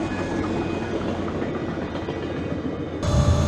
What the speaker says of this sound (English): Oh, perfect, a train.